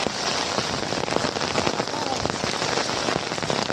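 Torrential rain pours down in Kalyan, a loud continuous hiss with sharper splashes and drips popping out of the steady wash, close by and unbroken.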